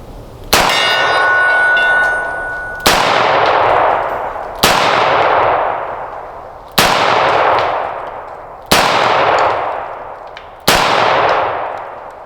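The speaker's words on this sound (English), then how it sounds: "we'll do 6 rounds double action." Six loud, close double-action shots from a Taurus Model 856 .38 Special revolver, fired at a slow, steady pace about two seconds apart, each sharp crack ringing out and fading before the next.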